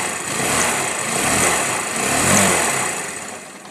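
Motorcycle engine being revved up close in a few gentle, rolling pulses over a steady running note, with no one talking.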